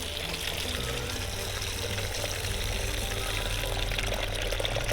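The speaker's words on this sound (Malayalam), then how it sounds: "ഇതിലേക്ക് കുറച്ച് വെള്ളം ഒഴിക്കാം" Water poured into a container of ash makes a soft, continuous trickling gush close by, steady and fairly quiet over a low background hum.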